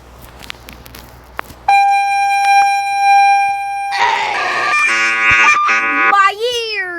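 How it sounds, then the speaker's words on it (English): South Korea's emergency alert alarm, a sudden loud sustained electronic tone after a quiet moment, shifting into harsher pulsing beeps and ending with a sweeping pitch glide. "listen to South Korea's EAS alarm."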